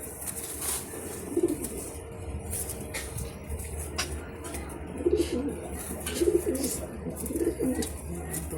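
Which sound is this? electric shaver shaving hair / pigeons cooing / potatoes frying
pigeons cooing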